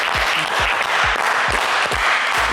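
Studio audience applauding a game show contestant, brisk steady clapping filling the short stretch, with rhythmic low thumps beneath it.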